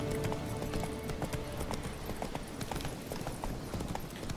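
Horse galloping in the video game Witcher 3, a rapid continuous clip-clop of hooves with a steady driving rhythm, close and fairly loud, alone without speech.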